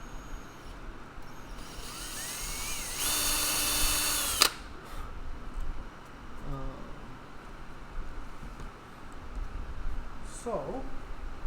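A power drill whirs loudly for about two seconds, then stops; faint clinks and handling noises follow in a quiet room.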